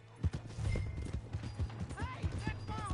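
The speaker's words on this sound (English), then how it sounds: "Hey, that's my horse!" Horse hooves clip-clop on the ground in Red Dead Redemption 2, a rhythmic series of thuds with game voices and a brief whinny-like cry layered over them.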